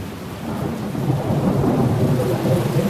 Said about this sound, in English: Oh, down with rain.